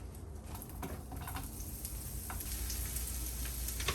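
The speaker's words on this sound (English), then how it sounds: "And get those in the pan. Get the onions in first." Onions sizzling and frying in a hot pan while peppers and onions are cooked, a steady close crackle that builds slightly over a few seconds with no talking.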